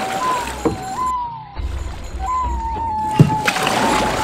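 A rowing boat moves on the water, with soft sloshing and occasional splashes against the hull under a sustained wavering tone, fairly close and moderately loud.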